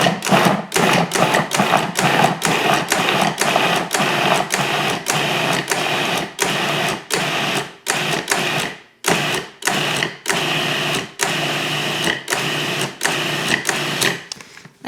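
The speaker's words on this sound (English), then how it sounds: "we're just gonna pulse until we get the texture that we like" A food processor pulses onion and garlic, firing a rapid series of short, loud bursts separated by brief gaps, close up and on its own with no speech.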